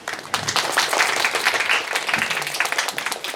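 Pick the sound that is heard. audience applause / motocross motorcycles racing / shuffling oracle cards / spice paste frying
audience applause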